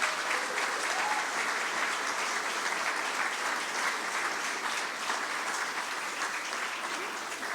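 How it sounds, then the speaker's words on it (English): At a memorial gathering of friends and family, a roomful of people claps in sustained, dense applause that holds steady for several seconds before easing slightly. "another round of applause for Will and for Annie"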